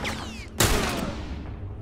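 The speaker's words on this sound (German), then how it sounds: "Der hat gesessen, der Schuss." A single sharp, loud gunshot goes off in The Last of Us Remastered, its crack decaying through a reverberant tail, with faint game ambience around it.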